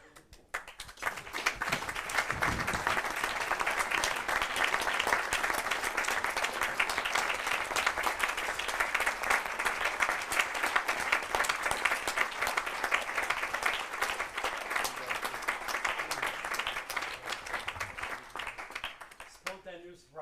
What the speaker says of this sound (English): Spontaneous round of applause.